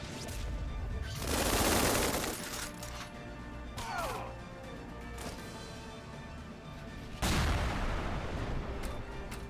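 Artillery and gunfire from the video game Tiny Metal: Full Metal Rumble, a heavy blast followed by scattered shots and mechanical clatter, then another loud blast near the end, close and loud, with no talk.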